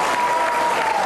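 Spectators at a 2007 World Team Cup lawn bowls semi-final between Canada and Australia applaud steadily, a dense, even wash of clapping from a crowd that holds at the same level throughout.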